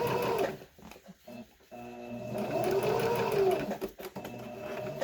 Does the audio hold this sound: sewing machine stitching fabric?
yes